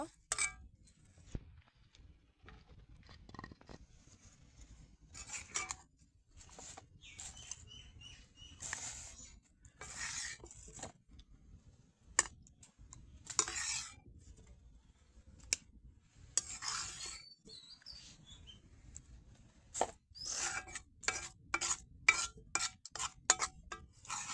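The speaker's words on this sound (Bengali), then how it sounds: "তো এখন এটাকে আমি একটা বাটিতে তুলে নিব।" Fried dried fish (shutki bhaji) being scooped from a pan into a bowl in a home kitchen, with scattered light scraping and clinking of utensil against metal, irregular and fairly faint, without speech.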